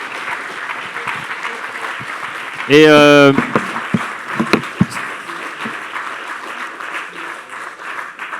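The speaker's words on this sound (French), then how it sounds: "on vous applaudit, Jean Tirole" An audience applauds Jean Tirole after a talk, with applause running throughout. A loud voice briefly speaks over it near the start before the clapping continues on its own.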